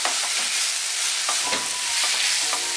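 A spoon stirs vegetable spring roll filling with soy sauce and tomato sauce in a hot pan, with a constant loud sizzle and several scraping strokes through it.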